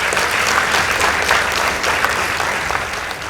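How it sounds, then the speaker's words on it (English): A studio audience claps after a high school debate result is announced, loud, dense and continuous applause from many hands with no one speaking. "Please give them a round of applause."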